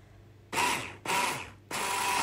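A hand-cranked flour sifter turning in bursts while flour is sifted for a cake, three loud rattling ratchet spells with brief pauses between, close up and with no talk.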